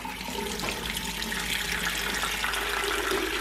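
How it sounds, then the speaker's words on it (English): Water runs from a tap in an abandoned hotel bathroom, a steady, close, hissing splash throughout with no talking. "So do these taps work?"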